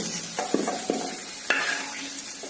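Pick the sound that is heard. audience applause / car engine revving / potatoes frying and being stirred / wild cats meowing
potatoes frying and being stirred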